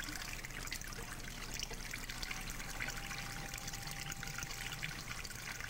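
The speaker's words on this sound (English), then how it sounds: "the water's flowing through it" Water trickles and streams steadily through a sculptural art installation shaped like a birth canal and fetus, a continuous close pouring and dribbling sound with no voices.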